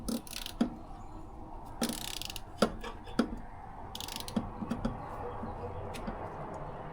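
A ratchet with a universal joint and extension tightens the valve cover on a 1979 Fiat 124 Spider to 25 foot-pounds, giving close, irregular bursts of sharp clicking pawl strokes separated by short pauses.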